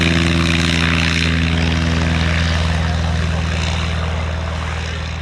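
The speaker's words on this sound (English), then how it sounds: "Just getting airborne now, the North American Navion" A North American Navion propeller plane takes off at an air and car show, its engine droning loud and steady with a strong propeller buzz that fades slightly as it climbs away.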